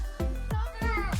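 A cat gives four quick meows in a row, close and fairly loud, each a short rising-and-falling cry in an indoor room.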